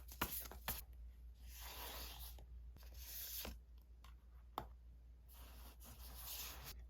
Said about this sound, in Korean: 두 분의 관계에 대한 카드 한 장 뽑아볼게요